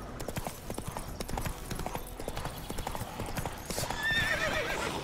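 A horse's hooves clip-clop at a gallop in The Witcher 3 on PS5, a dense rapid rhythm that swells louder toward the end, where a horse neighs briefly.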